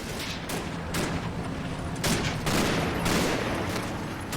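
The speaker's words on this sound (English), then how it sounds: "The recce teams quickly light them up and pin them down." Dense MG42 machine gun fire in the Combat Mission video game, a continuous loud rattling fusillade with sharp bursts layered over a steady roar of gunfire.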